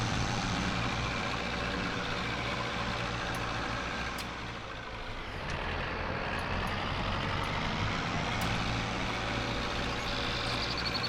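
Tractor in Osada, a farming game set in 1965 Poland, drones with a loud, steady low engine rumble that holds throughout, briefly dipping midway, with no voices.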